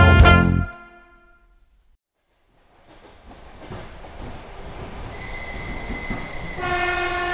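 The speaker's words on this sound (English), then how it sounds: "The train now approaching platform 10 is the 9:15 Cole Palmer International to Stamford Bridge" Train sound effect for a train approaching a station platform: a loud harmonic horn blast opens, then a pause, then rising rumble and wheel noise with squealing tones growing closer and louder to the end.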